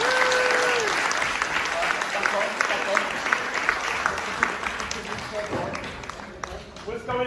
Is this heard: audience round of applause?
yes